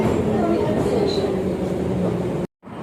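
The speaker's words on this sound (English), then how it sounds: "The train makes hell lot of noise." A Baku metro train running underground, giving a loud steady rumble and rattle throughout that cuts out abruptly near the end, with a voice talking over it.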